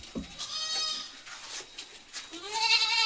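A young goat, about three months old, bleats loudly up close, a few wavering calls in quick succession with a stronger cry at the end.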